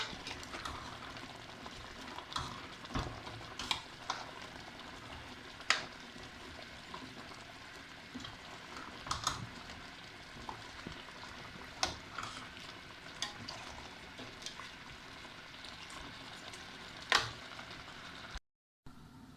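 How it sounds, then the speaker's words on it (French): Carrots and spices being stirred in a pot for a couscous sauce, with faint scraping, clinks and a soft sizzle running steadily through the whole stretch, quiet and close. "je vais mélanger un peu et après je rajouterai de l'eau"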